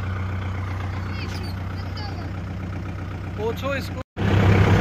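A Kubota 4501 tractor hauling a loaded sugarcane trolley runs with a steady, low diesel drone. Someone speaks over it briefly, and after a short dropout the engine comes back louder and heavier.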